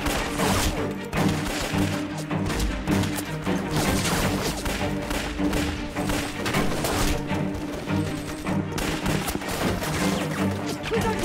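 Dense battle gunfire from a war film set in the anti-Japanese war: continuous rapid shots and crashing impacts layered with music, loud and sustained with no clear pauses.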